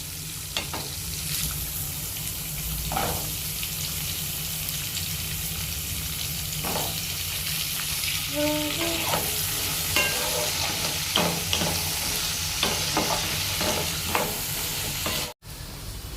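Chickpeas and potato pieces fry in a pan of oil for a Bengali mochar ghonto, a banana-flower curry. A steady sizzle runs throughout, broken by scraping stirs every few seconds, with no talking.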